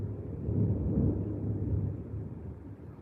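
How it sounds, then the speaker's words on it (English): A low, continuous rumble of thunder swells and slowly fades, with no voices over it. "Oh, you might hear the thunder right now."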